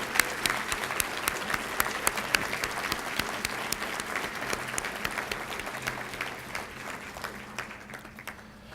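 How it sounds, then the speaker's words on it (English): An audience at a university college hooding ceremony applauds faculty and staff with sustained, dense clapping that carries on steadily for several seconds, full and reverberant in a large hall, with no talking over it. "I'd like to ask that all of you here today join me in applauding the faculty and the staff of the College of Urban and Public Affairs."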